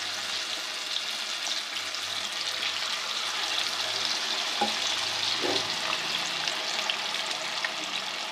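Fish pieces fry in ghee over a low flame, giving an even, close sizzle and gentle bubbling that holds steady throughout, with a couple of faint knocks and no voices.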